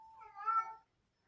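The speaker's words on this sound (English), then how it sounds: "There is literally a cat throwing tantrums outside my door." A cat throwing a tantrum meows outside a door, giving one drawn-out, wavering yowl that rises and then fades, heard alone at moderate volume with quiet afterward.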